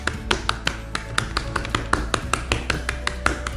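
Fingers pat and paddle a raw beef tenderloin in a steady series of soft, close, slapping taps, roughly three or four per second, with no talk.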